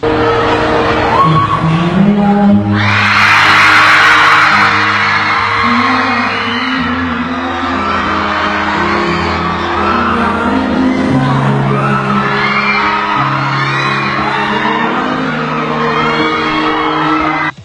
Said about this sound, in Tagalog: Naghiyawan naman ang lahat sa mga pakilig moves ng singer.